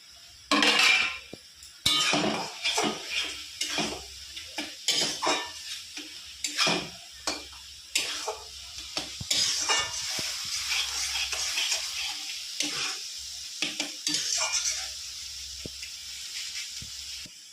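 Masala spice paste sautéed and stirred in a pan, with repeated scraping of a metal spoon against the pan over a steady sizzling hiss, close and fairly loud, without talk.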